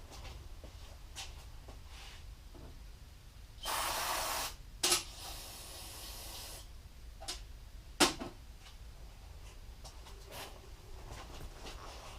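Aerosol cleaner sprayed through a small part of a Keihin FCR carburetor from a Yamaha WR250F, a steady hiss lasting under a second with a second short burst soon after, close and loud over quiet workshop background.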